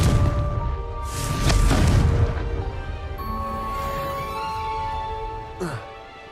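A Confringo fire spell bursts in Hogwarts Legacy with a loud, rushing blast that swells and fades over a couple of seconds, followed by lighter magical chimes and a brief whoosh under game music.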